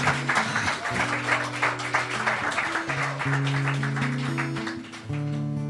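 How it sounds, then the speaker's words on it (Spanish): A church worship congregation claps steadily and continuously while sustained music tones play underneath, the clapping dense and close throughout. "Denle un aplauso al Señor"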